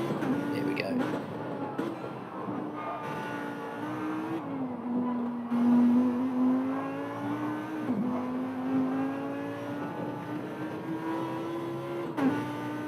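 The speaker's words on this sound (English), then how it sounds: "Eric wants a bit more onboard Lambo noise." A Lamborghini GT1 car heard from onboard in a racing game, its engine droning steadily with rising and falling pitch through gear changes, loud and continuous, with a voice talking over it.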